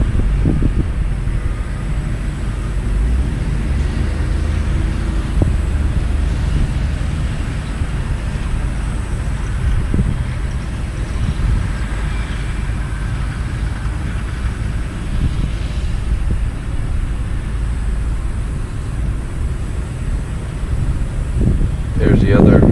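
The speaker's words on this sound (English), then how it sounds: "Windy." Steady low rumbling wind buffeting the microphone of a drone, a constant dull roar with no clear pauses.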